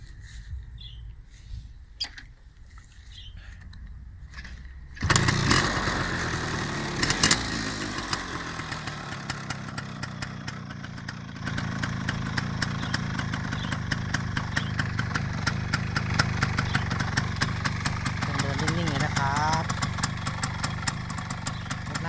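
After a few quiet seconds, a Kawasaki GTO motorcycle engine fires up loudly nearby and settles into a steady, throbbing idle, with a brief rev partway through.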